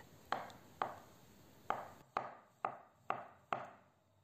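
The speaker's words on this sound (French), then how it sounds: "je vais couper la betterave, bien sûr cuite, en petits cubes" Cooked beetroot is cut into small cubes on a board, seven crisp knife chops with uneven spacing, close and fairly quiet against a faint background hiss.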